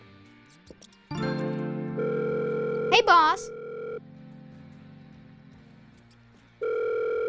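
Office telephone ringing in the horror game Happy's Humble Burger Barn: loud sustained electronic tones with a brief warbling ring, stopping and returning, under a short spoken greeting.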